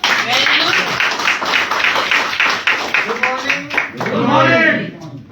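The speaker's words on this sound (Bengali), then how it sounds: "শান্তির জন্য একটা হাততালি হোক।" An audience at a Vestige networking meeting claps in a burst of applause while voices speak over and around it.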